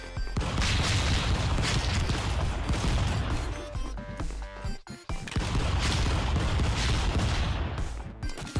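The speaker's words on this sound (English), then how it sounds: "Oh yeah, these are just straight up shotguns." Shotgun fire in the Stick Fight: The Game video game, a dense, loud barrage of blasts and crashes that runs almost continuously, broken by a brief lull midway.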